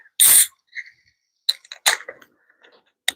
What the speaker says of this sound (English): We'll crack into a Cerveza Dos Equis.